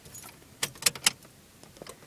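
A car's ignition key is turned, and the bunch of keys jangles in a few quick metallic clinks close by, with quiet room tone around them.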